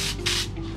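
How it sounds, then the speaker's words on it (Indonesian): A sprayer mists grapevine leaves against powdery mildew, giving two close hissing spray bursts over a steady low motor hum. "kita semprot."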